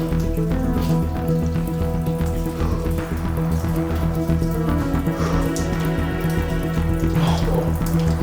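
Water runs and drips inside a flooded cave, a dense continuous splashing and trickling with scattered drops, loud and close, with no speech.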